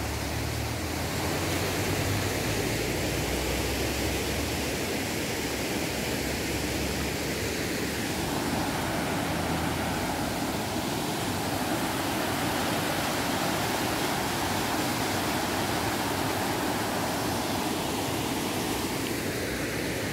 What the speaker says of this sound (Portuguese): Transbordou mais ou menos ali, passou por cima, a água arrancou os paralelepípedos